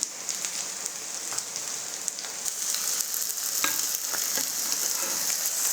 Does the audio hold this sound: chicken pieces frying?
yes